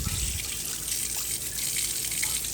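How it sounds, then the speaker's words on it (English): Hot tap water runs steadily over a metal piping tip in a kitchen sink, rinsing out buttercream with a soft continuous hiss and trickle, close and quiet with no talking. "run it under hot water to get rid of all of the buttercream"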